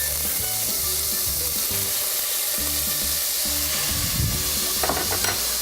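Garlic heats in oil in a pan, giving a steady close sizzle with occasional rubbing stirs and a few sharper clicks near the end, with a low rhythmic hum running underneath.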